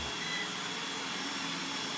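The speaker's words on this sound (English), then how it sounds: "it's a little louder than that vacuum" An iRobot Roomba 981 robot vacuum runs steadily close by, giving a constant whirring, airy hum with a faint high whine above it and no speech.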